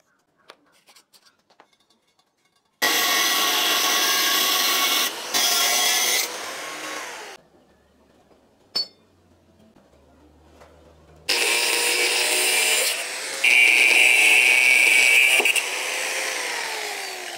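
A 1.5 inch iron pipe is cut with a power tool for a chainless bicycle build. Loud, harsh grinding bursts run for several seconds each, broken by short quiet pauses with small clicks and knocks.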